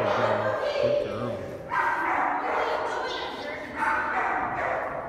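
Several dogs bark and yip repeatedly in bursts during a barrier aggression training exercise, while a handler talks over the noise.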